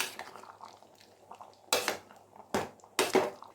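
Tamarind water stirred into simmering kuzhambu in a metal pot, heard as a few sharp spoon-on-pot clinks and scrapes, close and distinct, over a quiet bubbling background with no speech.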